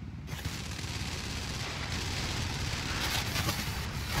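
Sustained automatic gunfire from a GTA V gunfight, a dense continuous crackle of machine-gun bursts heard from a distance, steady and unbroken throughout with no talking.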